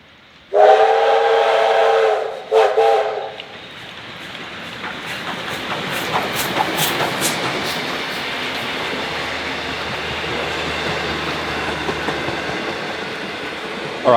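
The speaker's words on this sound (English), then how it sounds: "We have heard a whistle, so it couldn't be too far away." A steam locomotive, R761 in Victoria, Australia, blasts its loud whistle twice, then the train rumbles past with rhythmic clanking and hiss that lingers steadily.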